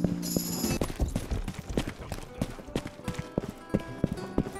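A knight's horse clip-clopping in the medieval video game Rustler, with irregular hoof thuds and clicks over game music and effects, moderately loud and close, under light talking.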